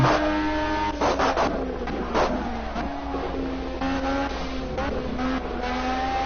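A race car engine in Project CARS revving hard with spinning wheels, a loud close whine climbing and dropping through several throttle bursts with faint tyre squeal.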